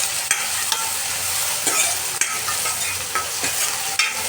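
Onion and tomato sautéing in oil with salt in a village-style Vidarbha kitchen, a steady close sizzle and crackle broken by several sharp scrapes and clinks of a spoon stirring the pan.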